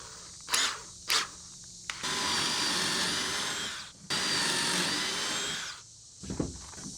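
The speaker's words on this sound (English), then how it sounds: "And I drill my holes." A power drill bores holes into wooden boards for a mirror frame, with two long whining drilling runs of about two seconds each, framed by short knocks and handling taps before and after.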